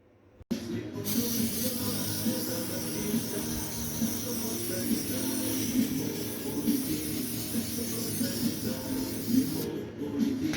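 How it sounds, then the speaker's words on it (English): An aerosol spray can applies a coating to a BOSS player, giving a steady, close hiss that starts abruptly and runs continuously for about ten seconds with little variation. "Go and spray."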